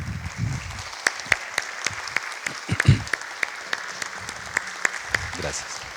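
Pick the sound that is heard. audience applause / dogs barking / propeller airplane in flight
audience applause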